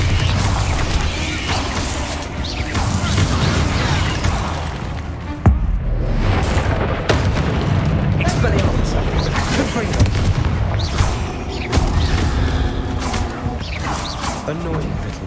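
Bombarda spell explosions and magic combat in Hogwarts Legacy, set against a spider fight: repeated booms and crackling bursts over a dense, continuous game soundscape with no talking.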